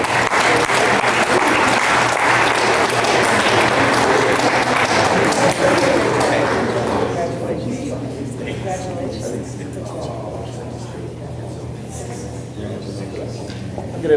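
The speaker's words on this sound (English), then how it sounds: "Let's give them a round of applause." Applause for honorees at a board of education recognition event, a full burst of clapping that rings out for around seven seconds, then thins out and fades while a voice begins speaking over the tail.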